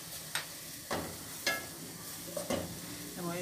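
Garlic and seasonings sauté in a pan with olives for a salt cod rice dish, giving a soft sizzle broken by several distinct stirring scrapes and clicks, with no talk.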